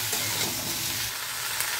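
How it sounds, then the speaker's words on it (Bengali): Broad beans and potatoes tossed with salt and turmeric in a hot pan give off a continuous bright sizzle, with soft scraping of a spoon stirring close by. "নেড়ে চেড়ে ভালো করে মিশিয়ে নেবো নুন হলুদটা।"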